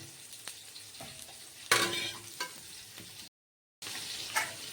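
Fish pieces, cauliflower and potatoes sizzle in hot oil in a pan, a soft steady frying hiss broken by a few sharper stirring bursts, with a brief dead gap near the end.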